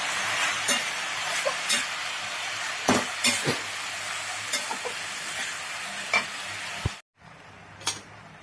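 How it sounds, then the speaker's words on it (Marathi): Red amaranth leaves are stirred while frying in a pan, giving a steady sizzle broken by scattered scraping clicks from the spoon, close and moderately loud before quieting near the end. "भाजी चांगली हलवून घेऊया।"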